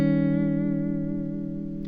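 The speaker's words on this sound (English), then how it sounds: "I hope that the tremolo is not getting on your nerves" Electric guitar chord sustained with a tremolo effect, a single ringing chord that slowly decays with a subtle pulsing shimmer.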